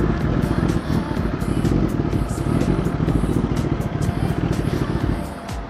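A Kawasaki Ninja superbike being ridden gives a steady, loud engine drone with road and wind rumble throughout, with brief clattering ticks on top.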